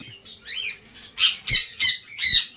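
Lovebird squawking in its cage, an albino female among breeding pairs, giving a series of four or five sharp, close harsh squawks with brief pauses between.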